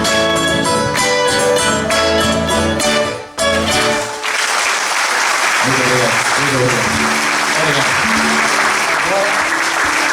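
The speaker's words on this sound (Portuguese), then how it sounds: "Um aplauso para eles" A live audience applauds at a folk music show. The music ends, there is a brief pause, and then loud, dense clapping swells and carries on steadily to the end.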